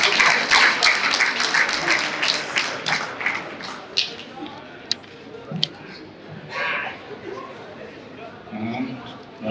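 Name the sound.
audience applause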